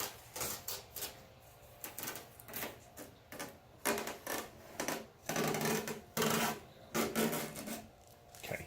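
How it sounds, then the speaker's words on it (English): Masking tape peeled in a series of rasping, tearing strips from the headlight of a 2005 Mercedes ML350 during restoration, with bursts of ripping separated by short pauses, close and fairly loud with no talking. "we're going to go ahead and we're going to pull the tape"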